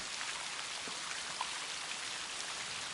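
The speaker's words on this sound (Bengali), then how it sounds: "যে জোরে বৃষ্টি হচ্ছে সমস্ত শরীর ভিজে গেছে" Heavy cartoon rain pours down in a dense, steady hiss of countless drops hitting surfaces, loud and unbroken from start to finish.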